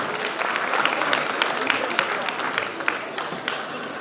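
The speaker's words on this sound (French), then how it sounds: "Chers invités, je demande d'applaudir encore Hawa." Applause at a fashion night event on stage, a crowd clapping steadily with sharp individual claps standing out over a dense wash, fairly loud, with voices mixed in.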